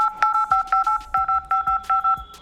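Key taps on a Redmi phone's MIUI dialer keypad produce a quick run of crisp two-tone beeps, about a dozen in steady succession, loud and close with faint tap clicks.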